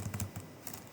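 Quick, light keystrokes on a computer keyboard at a Windows workstation, several soft clicks in a brief burst with no talking.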